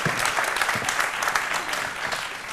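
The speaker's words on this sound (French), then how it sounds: "Donc on applaudit" A TV studio audience on a daytime show claps in a steady, full burst of applause, moderately loud and sustained throughout, with no talking over it.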